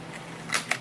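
The focal-plane shutter of a 70-year-old camera is wound, giving two small mechanical clicks close together over a faint background hiss.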